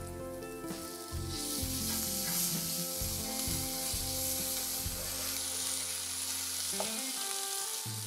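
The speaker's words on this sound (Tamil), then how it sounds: "வெங்காயம் வதங்கும் போதே நம்ம வந்து உப்பு சேர்த்துட்டோம்னா சீக்கிரமா வதங்கிடும்" Onions sautéing in a pan with salt, turmeric and ginger garlic paste give a loud, steady sizzle with a stirring scrape partway through, heard close and without voices, with a constant hum underneath.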